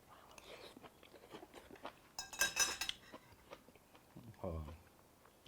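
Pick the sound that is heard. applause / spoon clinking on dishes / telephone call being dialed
spoon clinking on dishes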